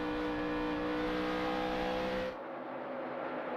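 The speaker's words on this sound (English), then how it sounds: "You can hear him working the throttle already a little bit." NASCAR stock car at the 2010 Bank of America 500 at Charlotte, heard from on board as the driver works the throttle: a loud, steady engine drone with harmonic whine that drops sharply as he lifts off, then holds lower.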